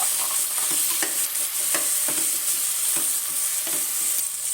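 Sliced long-cut beans tumble into a hot frying pan for paneer pulao and are stirred, giving a steady close sizzle with repeated soft scraping and clinking strokes of the spoon, no voices.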